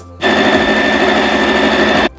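A sewing machine runs in one steady, continuous burst of about two seconds as it stitches the folded ends of a ribbon together for a circle skirt. The motor whirs loud and close, with no talking.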